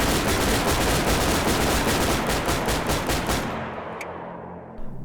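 VAIGA rifle in DayZ firing full auto, a loud, fast, continuous burst of rapid shots that stops abruptly and leaves a fading echo and a couple of faint clicks.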